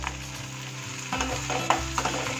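Chopped ginger and onion frying in a pan, a steady sizzle over a low hum, with a few soft scrapes and clinks of stirring, near and moderate.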